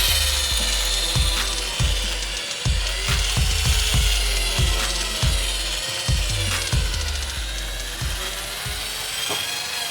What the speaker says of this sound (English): once you start the drill, remember, always start off on a slow speed